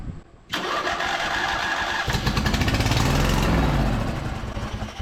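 A scrapyard Craftsman small V-twin engine cranks, catches and roars up, then settles into a steady, loud running rumble close by, with a nasty exhaust leak.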